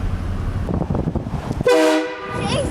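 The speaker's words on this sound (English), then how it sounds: "So we just, we put a train horn in my truck" A loud train horn mounted in a pickup truck blasts suddenly after a stretch of road and engine noise, a sustained tonal honk that fades into a fainter tail.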